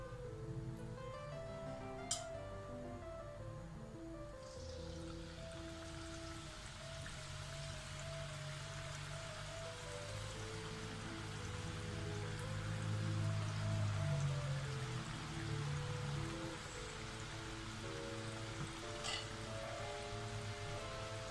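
Ribbon pakkavada dough made with raw rice flour, pressed into hot oil in an iron pan, frying with a steady, close bubbling sizzle and crackle that swells slightly midway and carries on throughout.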